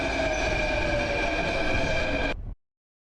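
Train in the Turnout video game, a steady loud rolling rumble with tonal wheel and engine hum that runs for about two and a half seconds, then cuts off abruptly into silence.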